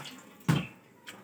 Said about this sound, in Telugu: ఇప్పుడు మిక్సీకి గిన్నెకు ఉన్న వాటరే కలిపి వేసేస్తున్నా